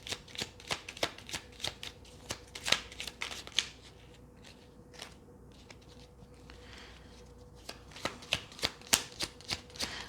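A deck of angel oracle cards riffled and shuffled up close, rapid crisp card flutters in bursts with a quieter pause in the middle, no talking.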